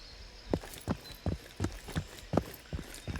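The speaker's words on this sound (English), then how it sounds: "I think I heard footsteps, though." Steady footsteps in a first-person shooter game, about eight evenly paced thudding steps over a few seconds, moderately loud with background ambience.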